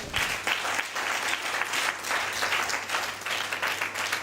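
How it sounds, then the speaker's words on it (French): A church congregation at Église Béthaie de Christ bursts into sustained applause to acclaim the Lord, many hands clapping steadily and fairly loud, with no voices above it. "On peut acclamer le Seigneur."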